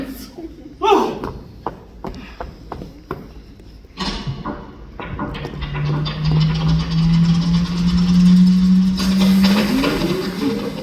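A stage time machine engine at a cirque show starts up after a run of sharp thumps and clatters, then settles into a loud, steady mechanical hum that rises in pitch near the end.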